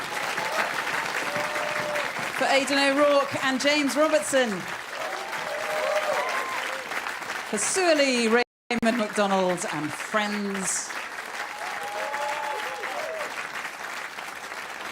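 A live festival concert audience in Edinburgh applauds a folk trio, with sustained clapping running beneath a presenter who talks over it, swelling briefly between phrases.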